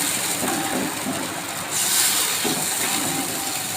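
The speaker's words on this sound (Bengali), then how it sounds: "এখন আমি কিছুটা জল দিয়ে দেবো ঝোলের জন্য।" Water poured into a kadai of fried-down spices and oil for a katla fish curry with chui jhal and taro gives a steady, loud, broadband hiss. The hiss swells and eases over a few seconds, with no voices.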